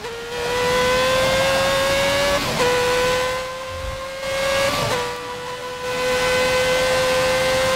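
A fast car's tire spinning under power in Forza Motorsport 7, heard as a loud, steady, rising engine whine with hissing wheelspin that cuts out briefly twice before carrying on.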